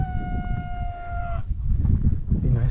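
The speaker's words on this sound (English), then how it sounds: "It'd be nice if that cow would shut up." A cow lets out a long, drawn-out moo that carries over outdoor background noise, then trails off.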